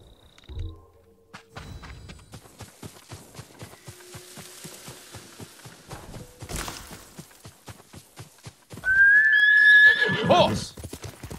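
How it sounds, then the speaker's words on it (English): Hooves clip-clop over ground in the Ghost of Tsushima game, then a horse lets out a loud, drawn-out neigh near the end. "Horse!"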